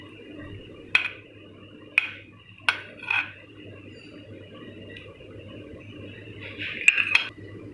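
Chicken and noodle masala is spooned onto rice on a plate, giving a few sharp isolated taps and soft scrapes of a utensil against the dish over a quiet background hum.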